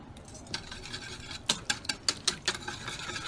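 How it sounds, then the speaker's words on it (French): A vinaigrette seasoned with salt and pepper is stirred with a utensil against a bowl, giving a quick run of light, rhythmic clinks and scrapes that grows louder midway, with no talking. "Vous mélangez le tout."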